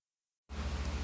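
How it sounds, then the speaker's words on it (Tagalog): An electric fan runs nearby as picked up by a phone microphone, a steady broadband whooshing hum with a faint rhythmic low pulse, starting abruptly after a moment of silence. "Naririnig nyo yung ventilador sa gilid ka."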